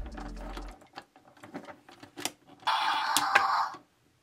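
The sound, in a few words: Transformers Armada Red Alert toy gun mechanism noise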